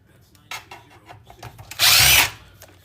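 A power drill backs screws out of a desktop computer circuit board, with short taps and light handling noises before one loud, sustained whirr of the drill.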